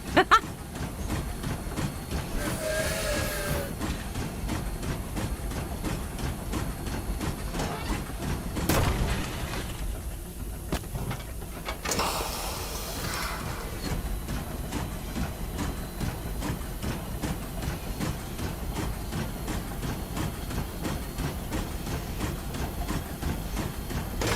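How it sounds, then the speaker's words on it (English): A train in The Long Dark rolls along with a steady rhythmic rumble and clicking over the rails, heard at moderate loudness, with brief louder bursts partway through, with no talking. "Choo-choo. It's a very weak choo-choo."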